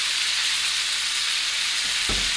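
A ribeye steak sizzling in a pan on a stovetop, giving a steady, loud frying hiss, with a short low thump near the end.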